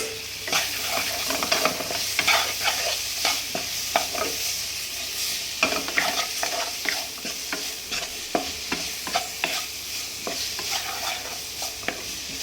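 Boiled vegetables are stirred into a hot pan for vegetarian pulao, a steady sizzle of frying under repeated scraping and clattering strokes of a spoon, close and continuous.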